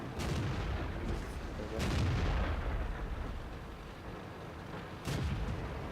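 Tank cannons fire in World of Tanks, a few heavy booming shots spaced apart over steady battlefield rumble, moderately loud and without talk.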